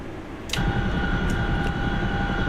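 A Chinook helicopter in a winter game setting drones steadily with a loud low rumble that swells in at the start and holds, with a sustained rotor-engine whine and no one talking.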